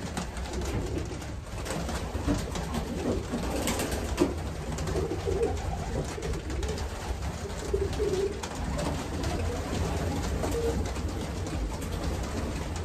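Racing pigeons cooing in a loft, soft repeated throaty coos scattered through a steady background hum, with no talking.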